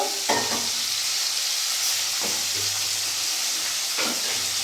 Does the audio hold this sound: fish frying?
yes